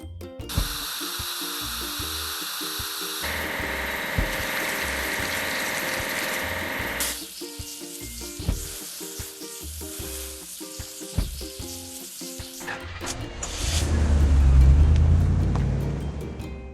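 A truck is washed in a children's video game: steady hissing spray, like a pressure washer or pump, runs with shifting tones and soft clicks, then swells into a louder rushing whoosh near the end.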